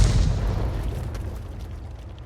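Heavy shell impact striking an ARL tank in World of Tanks, a single loud booming blast with a deep rumble that decays over about two seconds, no voices.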